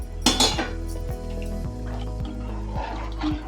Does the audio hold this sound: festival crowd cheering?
no